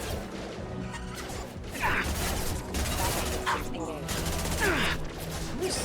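Mass Effect 2 combat on Xbox 360, with dense bursts of gunfire and crashing impacts sounding close and loud, rising and falling in heavy volleys amid whooshes and clanks.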